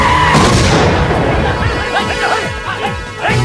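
A small bomb goes off in a comedy movie scene, a loud crashing blast at the start that tails off into rattling debris and scattered thuds.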